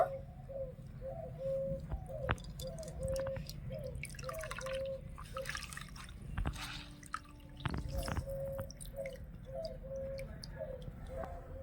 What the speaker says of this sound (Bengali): এবারে ছানা থেকে এক্সট্রা জলটা ঝরিয়ে নেব